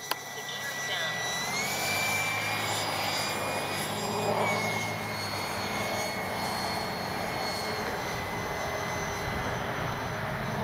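A Durafly Vampire V3 radio-controlled model jet flies overhead with a continuous whining ducted-fan roar that shifts slightly in pitch as it passes. Voices can be heard now and then.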